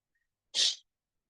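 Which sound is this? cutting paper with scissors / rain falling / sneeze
sneeze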